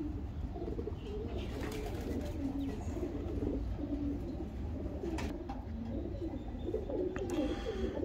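Pigeons cooing in a pigeon loft at a pigeon club, a breeding pair sitting on eggs, repeated soft low coos over a steady background hum with a few faint chirps, close and quiet.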